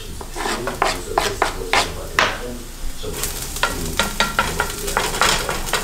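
Leftover chopped bacon and seasonings are stirred in a hot frying pan, with a steady sizzle under rhythmic scraping strokes of a utensil, close and fairly loud, no speech.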